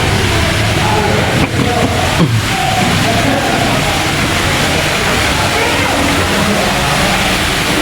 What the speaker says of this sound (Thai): น้ำตกใหญ่